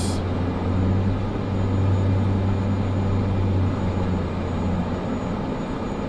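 A Cessna 208 turboprop drones steadily on a short-field landing approach, a loud, even engine hum with a low pitched tone that holds throughout.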